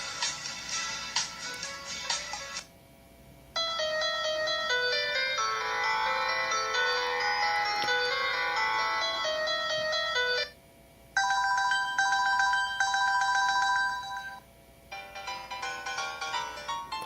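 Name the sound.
musical ringtone jingles on Pantech Ease phone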